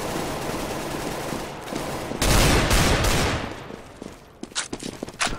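Rapid automatic gunfire rattles in long bursts during a Counter-Strike: Global Offensive match, loud and dense, then a few sharper scattered shots ring out near the end.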